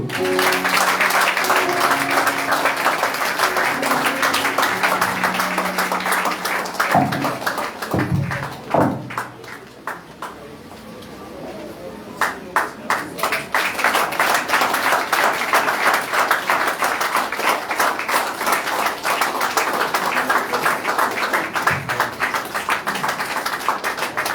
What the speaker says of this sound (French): continuez à applaudir